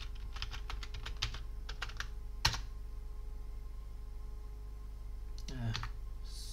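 Quick bursts of typing on a computer keyboard, a cluster of clicks early on, a sharp isolated keystroke, then a few more taps against a faint steady hum.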